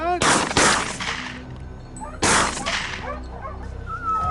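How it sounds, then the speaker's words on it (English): Two loud, sharp gunshots ring out about two seconds apart while hunting a massive wild boar of around 400 pounds, each blast followed by a ringing decay, with faint dog-like whimpers and rustling in between. "Pon squeezed the trigger. Each shot rang out with purpose."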